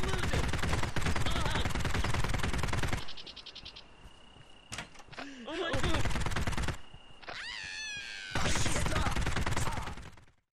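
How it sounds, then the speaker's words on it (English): Bursts of machine gun fire from the Postal 1 remake game, several rapid rattling volleys separated by quiet gaps and small game sound effects, loud and close. "The machine gun actually sounds like a weapon now"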